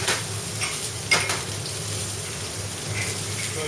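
Diced pancetta cubes frying in a pan during a cookery demonstration, giving a steady close sizzle with a few brief stirring scrapes near the start and no talking.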